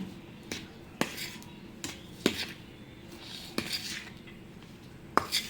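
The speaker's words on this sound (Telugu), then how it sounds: "రాగి పిండి వేడిగా ఉంది కాబట్టి కొంచెం నేను ఇలా గరిటెతో కలుపుతున్నాను." A metal ladle clinks against a pot while hot ragi flour is stirred with sugar, sharp scraping taps about once a second, close and quiet.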